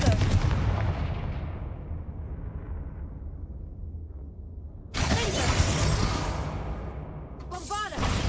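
A fiery Confringo spell from Hogwarts Legacy erupts in a loud booming blast with a long crackling decay, then a second sharp burst and shattering hit follow close together.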